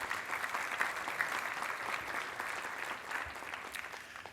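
A fairly sparse, faint round of applause from a small civic meeting audience, steady clapping from several people with a few sharper individual claps standing out, no talking over it.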